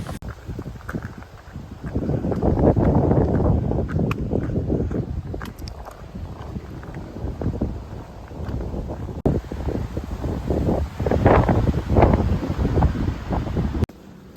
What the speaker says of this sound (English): It is a bit windy, you could probably hear that